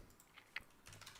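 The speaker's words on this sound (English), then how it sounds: "You see, I'm typing this like live" A few scattered keystrokes on a computer keyboard while entering code for a full stack web app, quiet and sparse, with one sharper click standing out near the middle.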